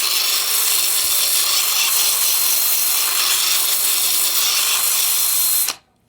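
Stone being ground on a 50 grit pad with a power tool, a steady, loud abrasive whir and scraping that runs without a break for nearly six seconds and then cuts off abruptly.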